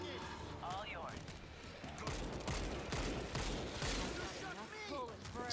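Gunfire from the zombie shooter World War Z, heard as rapid volleys and bursts over a busy combat bed, with other game sounds mixed in.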